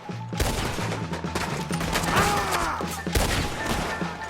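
Gunfire in a shootout in Red Dead Redemption 2, with a dense, continuous barrage of loud, overlapping shots and impacts lasting several seconds.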